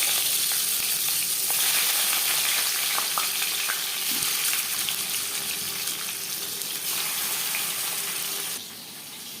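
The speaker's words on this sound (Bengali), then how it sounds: "3 চামচ সর্ষের তেল গরম করে নেওয়ার পর দিয়ে দেবো লবণ হলুদ মেখে রাখা মাছ।" Chitol fish pieces coated in salt and turmeric fry in three spoons of hot mustard oil, giving a loud, steady crackling sizzle with a watery hiss throughout that drops slightly in level near the end.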